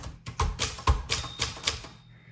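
A quick run of sharp mechanical clacks from a 1984 UNIS TBM manual typewriter, close up, keys striking in an uneven burst.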